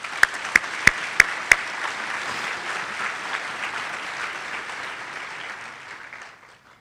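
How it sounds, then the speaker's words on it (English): A luncheon crowd gives sponsors a quick round of applause, a few sharp nearby claps at the start over a dense wash of clapping that fades out. "Let's give these folks a quick round of applause."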